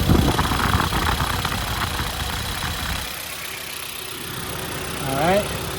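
Car engine idling roughly with a bad head gasket and misfire, a low uneven chugging rumble close by, with a person talking over it early on.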